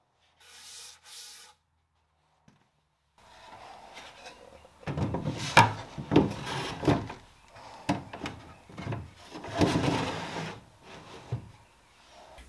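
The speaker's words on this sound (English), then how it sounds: "I like to do my final sand on a higher grit piece of sandpaper. 220 is usually good enough." A wooden mid-century dresser being sanded by hand with 220 grit sandpaper, close rhythmic back-and-forth scrubbing strokes that build in loudness after a few quiet seconds, with no talk.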